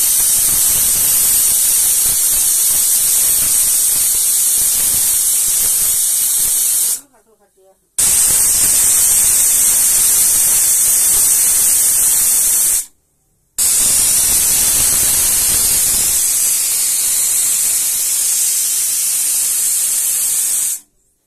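A pressure cooker on a gas stove lets off steam in a loud, continuous high hiss, broken by two short silent gaps before the jet resumes.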